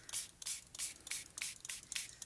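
Arteza mica shimmer spray spritzed from a fine mister bottle in a quick run of short, soft hissing bursts, about eight puffs in a loose rhythm, close by with no talking.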